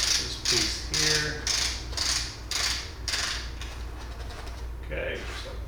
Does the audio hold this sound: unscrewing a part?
yes